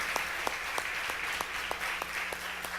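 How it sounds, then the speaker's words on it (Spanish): Faint, sparse applause from a small audience at a talk, with a few louder claps in a slow, regular rhythm over a low steady hum, no voices. "merecen un aplauso por parte de nosotros"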